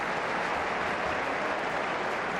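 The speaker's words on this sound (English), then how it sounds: "The crowd are applauding" A football stadium crowd at a West Ham United versus Leeds United match applauds, a dense, even wash of distant clapping spread across the stands with no commentary over it.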